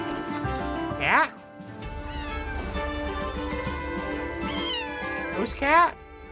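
Cat in a video game trailer meows twice, the first early and the second louder near the end, each a rising-then-falling cry over continuous music and background sound.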